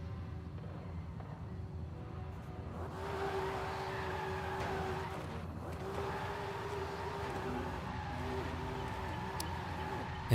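Nismo GTR in the Forza Horizon 5 racing game, its exhaust crackling and popping over a steady engine drone with tire squeal, continuous and moderately loud for about ten seconds.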